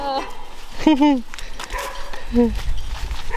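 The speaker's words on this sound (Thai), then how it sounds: "ขู่เขาเขาก็เลยเห่าเลย" Small black-and-white dogs at a beachside campsite bark at each other, a few short, sharp yelping barks close by, mixed with people talking and background noise.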